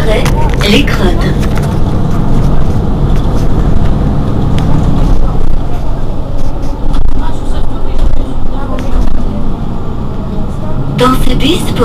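Onboard a Mercedes-Benz Citaro G C2 articulated RTM city bus on Marseille's line B2, a continuous low engine and road rumble swells and eases as it drives, with rattles and brief sharper bursts near the end.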